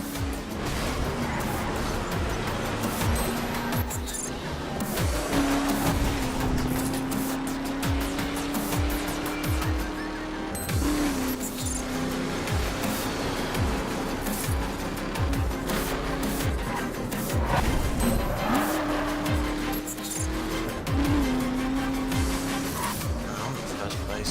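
Race cars in The Crew video game roar steadily, with rising and falling tire squeals, skids and occasional thuds as they bash against walls, loud and continuous throughout.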